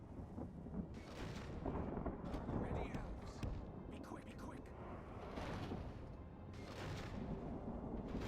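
Defensive towers fire in Medieval 2: Total War (Divide & Conquer mod) during a siege, with repeated heavy booms and crackling volleys rising and falling over battle din while a voice talks throughout.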